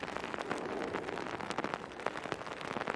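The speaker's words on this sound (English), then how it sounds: "That is not light rain." Heavy rain pours down at Manchester Airport, a dense, steady hiss with close, crackling drops spattering on a nearby surface, loud and continuous with no voices.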